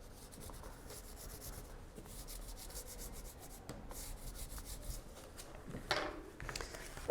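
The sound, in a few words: bone folder rubbing paper cover in bookbinding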